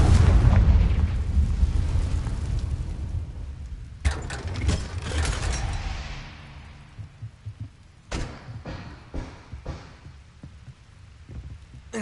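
Confringo blasting spell explosions from the Hogwarts Legacy video game: a heavy, rumbling boom that decays over several seconds, then sharp new blasts near four and eight seconds followed by a string of quicker bursts.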